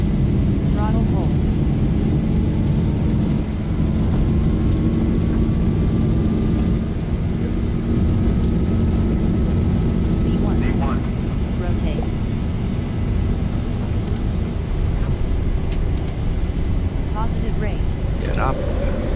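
Boeing 737 jet engines spooling up to takeoff thrust in the X-Plane 11 Zibo mod, a loud steady roar filling the whole clip, with a rising whine and faint cockpit clicks and chimes.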